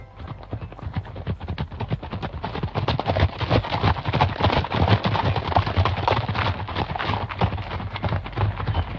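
Cartoon cows stampeding in a comedy cartoon, their hoofbeats a loud, rapid, steady clatter of galloping clip-clops that keeps up throughout with no talk.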